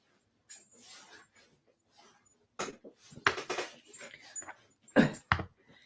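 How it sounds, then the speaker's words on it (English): A pet dog whimpers and yips softly at close range indoors, brief whines in scattered bursts mixed with faint clatter, a few louder at the end. "This is Rose's pup."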